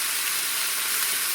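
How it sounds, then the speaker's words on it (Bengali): Gugli snails fry with salt in a pan, giving a steady, close, bright sizzle that holds evenly without pause. "নুন দিয়ে এবার এটাকে ভালো করে নেড়ে নেবো, ভাজতে থাকবো।"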